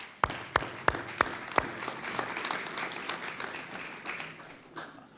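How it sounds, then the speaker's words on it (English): Applause for staff at a press conference, opening with a few sharp, close individual claps before settling into moderate, scattered clapping from a small crowd that fades toward the end. "give the staff another round of applause"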